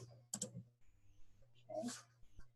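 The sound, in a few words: typing on a computer keyboard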